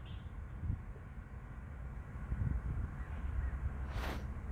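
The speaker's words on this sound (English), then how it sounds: "What's going on with these birds" Crows caw outdoors in a few faint, scattered calls over steady low rumbling background noise, with a brief louder hiss near the end.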